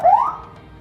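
A single short upward sweep from an ambulance siren unit, loud and alone, rising quickly and then dropping away into a faint tail within a second.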